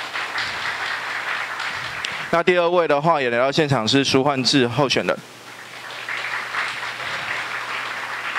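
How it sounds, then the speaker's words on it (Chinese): Audience applause for Tainan mayoral candidates at a live public forum fills the room steadily. It stops while a man announces over a microphone, then resumes at a softer level. "那大家再掌声鼓励一下"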